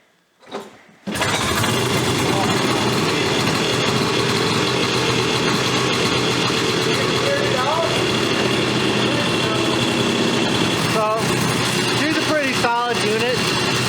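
A vintage 250 Enticer snowmobile engine idles steadily as it warms up, with a sticky choke knob. It is loud and continuous after a brief startup, with faint voices underneath.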